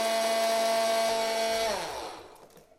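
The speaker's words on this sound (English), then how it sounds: "now we're going to do the English mix. And salt back on. And blitz." A blender blitzes an English spice mix with salt, its motor whining loudly at a steady pitch before spinning down and fading out.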